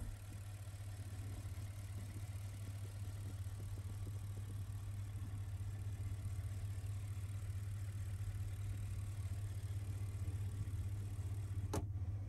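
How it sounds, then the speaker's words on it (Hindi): A 2017 Bentley Mulsanne EWB with a V8 engine idles steadily, a low, even hum held for about twelve seconds with a brief click near the end and no speech. "वी एट इंजन बेंटले का"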